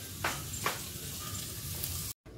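Garlic, cumin seeds and bay leaf hit hot tempering oil with a steady crackling sizzle, a couple of sharper pops near the start, continuous and close before a brief cut to silence.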